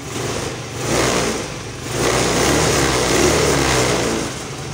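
Motorcycle engine running steadily during a battery charging system test, a continuous mid-pitched hum with a couple of mild swells in revs, close by and with no talk.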